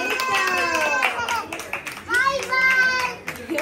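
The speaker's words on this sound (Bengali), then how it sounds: "হাততালি দাও" Hands clapping at a birthday celebration while a gift is opened: a run of several quick, bright claps mixed with children's voices and lively talk, fairly close.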